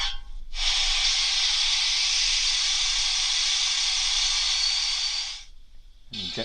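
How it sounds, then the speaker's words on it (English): Steam safety valve blowing off, as produced by a Hornby TXS HM7000 sound chip in a Hornby BR Coronation model: a steady, loud, broad hiss lasting about five seconds before cutting off abruptly. "Safety valve."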